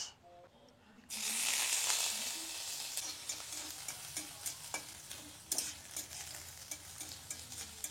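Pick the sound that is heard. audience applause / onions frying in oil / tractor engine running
onions frying in oil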